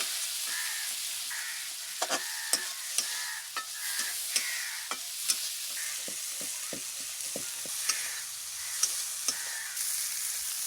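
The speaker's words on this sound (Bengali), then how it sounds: "চিংড়ি মাছটা আমি খুব কড়া করে ভাজবো না, হালকা করে ভেজে নেব।" Shrimp fry lightly in a pan for a taro-leaf shrimp dish, a steady loud sizzle broken by repeated sharp clicks of a spatula stirring, with no talk.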